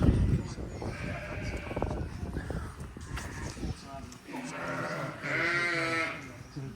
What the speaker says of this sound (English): I'm just looking at the sheep